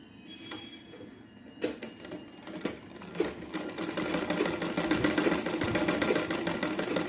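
Sewing machine stitching a cut fabric piece for a blouse latkan, a steady fast run of close mechanical needle chatter that builds and continues with a few brief stops, no voices.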